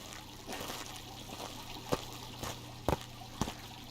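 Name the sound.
fountain water trickling in Phasmophobia video game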